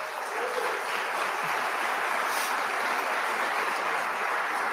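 Steady, even wash of audience applause at a state of the State address, moderately quiet and continuous throughout with no talk over it.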